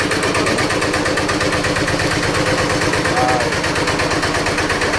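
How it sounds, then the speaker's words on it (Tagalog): Generator engine on a large yacht runs steadily and loudly throughout with a dense rapid mechanical rhythm, close by, while a voice briefly exclaims over it. "So ayan po yung kanyang generator"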